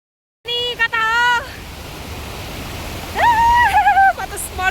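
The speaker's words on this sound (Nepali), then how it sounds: "हामी चाहिँ यहाँ सानो झरनामा गएर चित्त बुझाउँदैछौँ।" A small waterfall in Kaina gives a steady rushing roar of falling water throughout, while people speak over it in short bursts.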